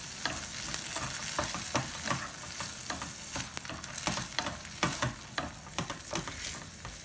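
Boiled corn stirred in butter in a pan makes repeated scraping, sizzling strokes in an uneven rhythm, close and moderately loud with no talking.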